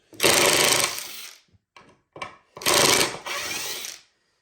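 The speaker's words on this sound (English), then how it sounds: "We pull out that screw that we're going to countersink." A power drill backs a screw out of wood while building a heart-shaped rocking cradle, with two long loud whirring bursts separated by short stuttering pulses, close and without talk.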